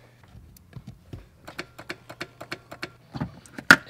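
A Mercedes PSE door vacuum pump, the soft-close unit, with a poorly working fault, runs in a rapid series of sharp clicking ticks over a faint low hum, ending in one louder snap.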